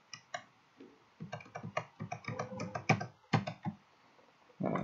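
Computer keyboard keys pressed for a Ctrl C copy shortcut while working in a grading application: close, crisp clicking taps in irregular quick clusters, quiet and alone, with a brief louder clatter at the end.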